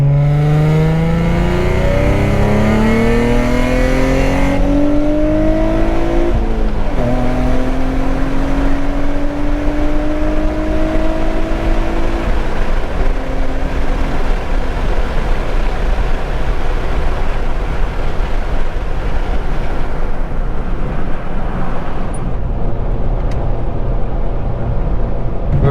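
An Infiniti G35 coupe with long tube headers accelerates hard, its loud engine note climbing through gears with rising pitch sweeps, then settling into a steady roar and rushing noise.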